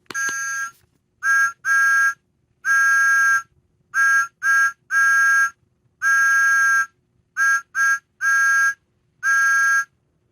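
A Thomas the Tank Engine toy sounds its whistle in a series of loud, bright, steady toots of varying length, some short and paired, others held longer, with quiet gaps between and no talking.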